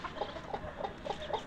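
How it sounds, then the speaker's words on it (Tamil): A hen out of its coop near a yard where birds are bathing, clucking loudly in a steady run of short repeated calls, close and continuous over faint background noise. "இங்கே ஒரு கோழி அவையத்துலேருந்து வெளியே வந்துருக்குது. ஒரே சத்தம் போட்டுட்ருக்குது."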